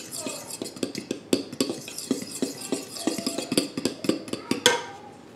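Dry ingredients with salt being stirred in a bowl for pumpkin whoopie pies: quick, steady scraping and clinking of a utensil against the bowl, close and rhythmic with no pauses.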